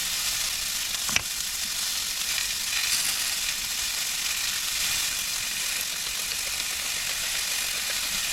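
Onions cooking down in a pot for French onion soup, a steady close sizzle and hiss that runs unbroken, with one brief knock near the start.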